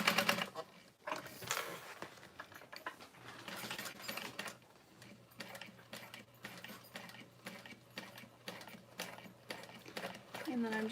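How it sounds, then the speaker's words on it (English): A sewing machine stitches close to the outer edge of a fabric bag at a 4.5 stitch length, running in bursts of rapid needle clatter with short pauses while a person talks over it. "I'm just sewing really close to that outer edge"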